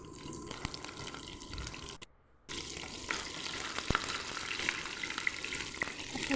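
Green chillies frying in a pan, a soft, steady sizzle with faint crackles and a brief drop to near silence partway through; no one speaks.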